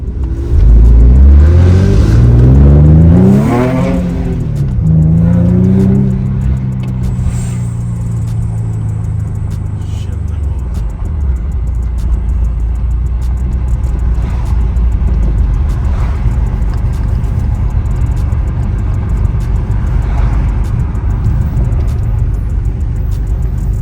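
An Infiniti G37 with a faulty VVEL module and a history of limp mode revs loudly at first with rising and falling engine tones, then settles into a steady, low driving rumble with road noise.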